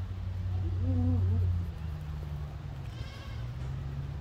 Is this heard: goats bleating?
yes